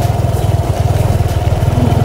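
Honda XRM 125 fi motorcycle engine running under load with a heavy rider aboard, a steady close, pulsing low-mid drone with rapid regular firing beats throughout.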